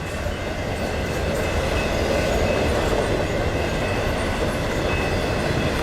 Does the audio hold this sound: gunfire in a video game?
no